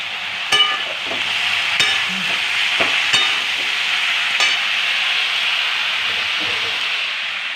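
Spices with turmeric sizzle in hot oil in a pan: a steady frying hiss, broken by several sharp scraping stirs at irregular intervals, close and fairly loud, with no talk.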